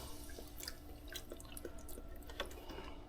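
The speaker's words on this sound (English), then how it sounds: "Now I'm gonna put about a cup of this chicken broth." Chicken broth pours and splashes into a hot pan, with scattered drips and crackles over a steady low background hiss.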